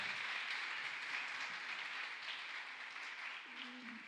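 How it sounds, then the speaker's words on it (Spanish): A church congregation applauding, a faint, steady wash of clapping heard from a distance, with a brief voice near the end. "¿Por qué no le dan aplauso al Señor en esta mañana?"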